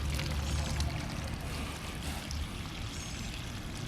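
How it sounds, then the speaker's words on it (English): Pump in a beginner saltwater tank setup sucking up water and trash and pouring it out into a yard, a loud, steady gushing and splashing rush of water nearby, continuous with a deeper surge at the start. "it's grabbing all that trash and sucking it up and pouring it out here in the yard"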